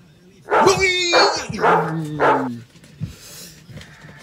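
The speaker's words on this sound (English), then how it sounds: "Wayne Gamble said, the dog sounds lethal, Kev." A dog barks four times in quick succession, loud and close, with a low growly tone, then goes quiet apart from faint rustling.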